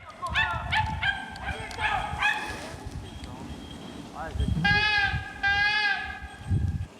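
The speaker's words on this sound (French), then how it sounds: "Et alors les chiens aboient" Several hunting dogs yelp and bark in bursts at a distance during a hunt, some calls high and drawn out, with people talking nearby.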